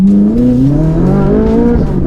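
A Ferrari sports car engine, in a widebody Liberty Walk build, revs up loudly and steadily, its pitch climbing smoothly as it accelerates hard, close and unbroken.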